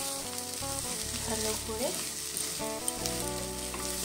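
Flat beans and shrimp are being mixed and fried in oil, giving a soft continuous sizzle with stirring as one voice speaks briefly, all under steady background music.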